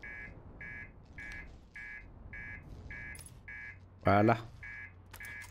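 The main alarm in the video game Outer Wilds buzzes in a steady repeating pattern of short tones, about two per second, while a voice briefly cuts in over it.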